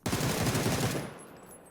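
A close, loud burst of automatic rifle fire aimed at nearby cars in PUBG, rapid rhythmic shots lasting about a second before cutting off into a short fading tail.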